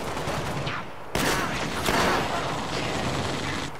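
Gunfire and turret shooting in the Halo: Spartan Assault video game, a steady barrage of shots that swells after the first second and continues dense and loud throughout, with no talking.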